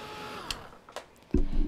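A handheld heat dryer switches on near the end and blows steadily and loudly to dry purple paint, after a few faint clicks and bumps in a quiet room.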